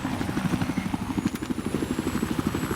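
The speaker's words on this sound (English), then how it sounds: "Helicopter." A helicopter in a video game churns out a fast, steady rotor chop, close and fairly loud, with no talk over it.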